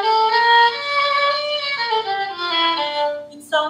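A melodic phrase in an Arabic scale with its distinctive intervals, played alone on a single sustained instrument whose pitch glides and steps between notes, loud and close.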